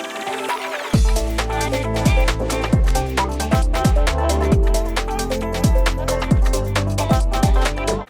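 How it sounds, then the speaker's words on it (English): A 90s-style UK garage house groove made in FL Studio plays loud and full, with a punchy kick, crisp shuffled hats and layered synth chords after a brief quiet intro, with no voice. "a 90s house UK garage track idea that I just made"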